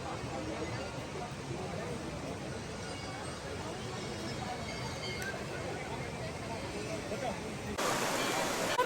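Water pouring steadily from the 108 stone water spouts at the Muktinath temple in Upper Mustang, Nepal, a continuous rushing splash close by that swells louder near the end.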